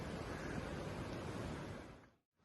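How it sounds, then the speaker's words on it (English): Overflowing river water rushes loudly and continuously down into a pool, a dense roar that drops away briefly near the end before resuming. "the water that was overflowing up there is now coming all the way down here"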